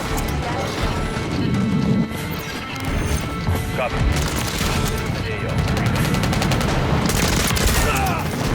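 Gunfire in Modern Warfare 3 crackles almost continuously, with dense overlapping shots, impacts and crashes mixed with someone talking throughout, loud and busy.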